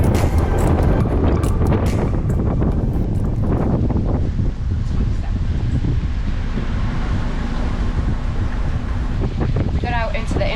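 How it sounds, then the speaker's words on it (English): Strong, steady wind of up to 27 knots roars across the microphone aboard a sailboat on the choppy Intracoastal Waterway, a constant loud rush with brief voices near the start. "we saw immediately up to 27 knots of wind"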